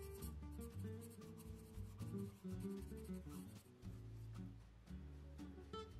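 Pen filling in part of a drawing with black ink, a soft, continuous scratching and rubbing of the tip over paper in short back-and-forth strokes, faint and close with no talking.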